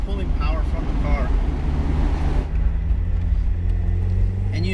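A Mazda Miata with an extra pulley on a test drive, its engine rumbling steadily from inside the cabin with wind noise, while people talk over it through the first half.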